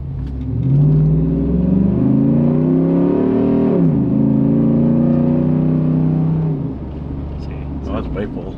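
A lifted truck (Ford Raptor or Ram Power Wagon) on a test drive right after a caster adjustment. The loud engine rises and falls with gear changes as it drives, with a steady road rumble underneath and people talking over it.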